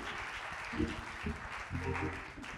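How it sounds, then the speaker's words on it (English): Applause from a church congregation at a Black History program, a steady broadband wash of clapping mixed with some voices and chatter, moderately loud throughout. "Give them another round of applause"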